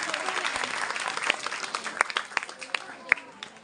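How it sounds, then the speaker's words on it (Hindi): A crowd at a school annual function claps steadily in dense applause for young children, with a few sharper individual claps and whistle-like accents standing out near and loud. "जोरदार तालियां हो जाए नन्हे बच्चों के लिए।"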